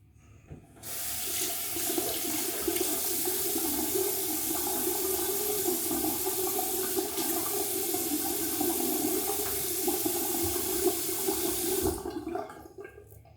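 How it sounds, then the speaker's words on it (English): Tap water running into a sink for rinsing after a shave, a steady close rush that starts abruptly, holds for about eleven seconds and then cuts off, with no speech. "I'm going to rinse and I'll be back."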